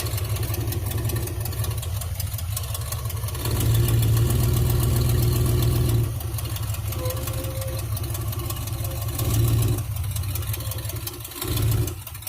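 A mini tractor engine runs steadily while being driven, a close, rough low drone with a rapid pulsing beat that rises and falls in loudness as the machine moves along.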